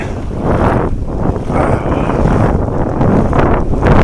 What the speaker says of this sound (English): If you can stand the sound of that wind, trying to shield the microphone, but I doubt it's working very well.